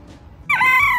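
A farm chicken lets out a short, bright, clucking squawk after a brief quiet stretch, close and clear with no talking.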